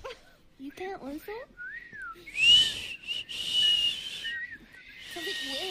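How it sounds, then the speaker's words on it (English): A person whistles several short rising tones and a sustained, bright whistle, with people talking around it in a lively indoor setting. "You can't whistle?"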